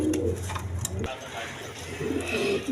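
A pair of Indian Lotan pigeons cooing at a farm, soft low coos in short bursts close by, with a voice talking over them.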